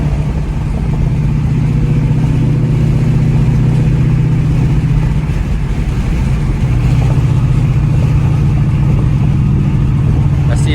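A Ford Mustang GT engine drones steadily and loudly while the car weaves through road traffic, with a sustained low hum that barely rises or falls.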